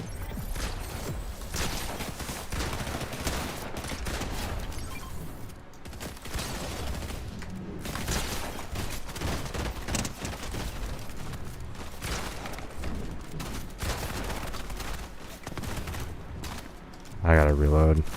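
Gunfire in the video game Fortnite, busy overlapping shots and mechanical game effects running throughout, ending in a loud burst, with a voice talking over it.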